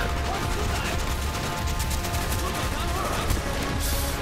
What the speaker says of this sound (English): Yes, this is a flamethrower.